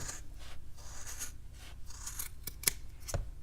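Scissors trim yarn on a hat in close, quiet snips, a series of soft cutting and rubbing strokes ending in a few sharper clicks, with no one speaking.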